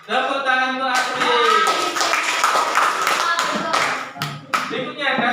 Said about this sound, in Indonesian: Tepuk tangan untuk Asri.